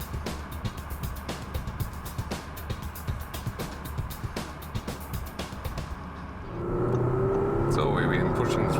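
Audi A7 Sportback, a 2015 facelift, driven under hard throttle, its engine drone rising steadily inside the cabin amid road noise and ticking, growing louder and more strained near the end.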